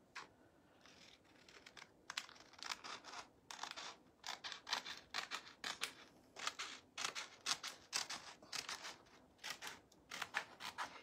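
Scissors cut through paper while holiday decorations are being crafted. Quick, faint snipping and crisp rustling go on in uneven bursts with short pauses, and nobody speaks.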